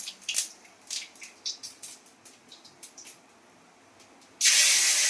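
Panch phoron spices are dropped into hot oil left over from frying fish. A few quiet clicks and taps come first, then a sudden loud, hissing sizzle bursts out and holds to the end.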